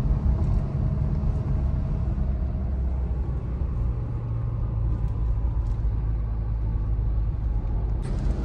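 Mahindra Scorpio N SUV driving along a road, heard from inside the cabin as a steady, loud low engine and road rumble that stays even throughout, with no talking.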